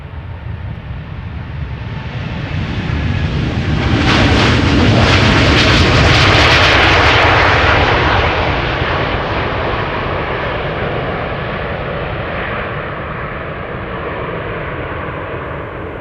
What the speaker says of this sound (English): This is KLM flight 705 going to Rio de Janeiro, 7879 Dreamliner